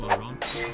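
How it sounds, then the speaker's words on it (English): A glass bottle smashes in VRChat, a sudden bright crash that breaks into a sustained scatter of shattering glass over less than a second. "I smashed a bottle for dramatic effect"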